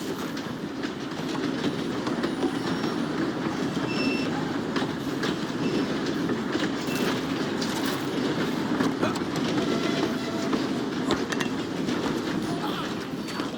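A moving train in the Red Dead Redemption 2 video game rumbles along with a steady clickety-clack of wheels and occasional squeals, continuous and close, while voices shout over it.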